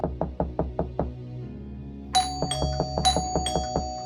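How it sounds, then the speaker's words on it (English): A door-knocking sound effect raps out a steady series of sharp knocks, then continues with irregular knocks under ringing, chime-like tones. "The sound of knocking continuously overlaps with the text bubbles, overshadowing the page and building suspense."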